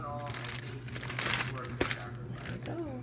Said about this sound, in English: you're gonna get a gallon size Ziploc bag